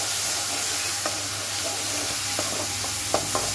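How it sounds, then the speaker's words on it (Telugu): Onions frying in a pan while being stirred, a steady close sizzle with a few scraping stirs breaking through, no voices. "కొంచెం ఎరడాలుగా ఫ్రై అయ్యేంత వరకు ఫ్రై చేసుకుందాం."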